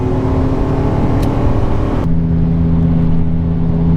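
A Ford E350 Econoline van with a 6.8 V10 accelerates hard to pass a semi truck on the highway, its engine droning loud and steady before the pitch drops as it shifts.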